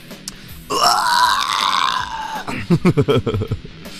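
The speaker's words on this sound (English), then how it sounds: "it's a burp and slurp, if you can't hear" A long, loud, drawn-out burp from a man drinking beer, lasting nearly two seconds, followed by a few short grunting vocal sounds.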